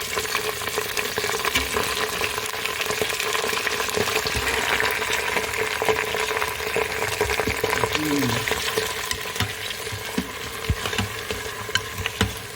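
Washed mutton goes into browned onions in a new cooker, bringing a continuous moderate sizzle with wet frying crackle and occasional stirring knocks.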